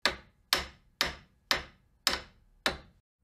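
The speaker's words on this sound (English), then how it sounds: "he took out a hammer and nails" Six sharp hammer blows driving nails into wooden planks, evenly spaced about half a second apart, each a crisp, loud knock with a quick decay and no talking.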